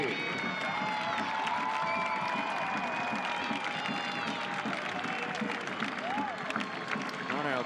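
Stadium crowd at a Phoenix Rising FC versus Atlanta United 2 football match applauds substituted players: sustained, even clapping and crowd noise, with an announcer talking over it.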